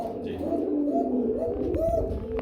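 Red fancy pigeons coo in repeated low, throaty phrases, close by, with a faint voice murmuring underneath.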